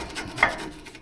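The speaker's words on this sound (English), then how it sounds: "I'm just going to take my screwdriver and just kind of get the bulk" A screwdriver scrapes debris off the brake bracket of a Toyota Sienna, giving short rasping strokes with one sharper scrape in the middle, close and moderately loud.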